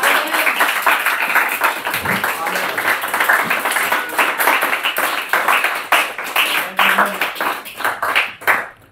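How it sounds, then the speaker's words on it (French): Congregation clapping and applauding inside a church during a sermon, a dense sustained wash of hand claps for several seconds with some voices mixed in. "Acclame, bien aimé, acclame."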